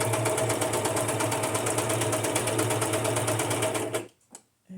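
A sewing machine stitches paper journal cards with a steady, fast mechanical whirr and rhythmic needle chatter, loud and close, then stops abruptly, leaving a couple of faint handling noises.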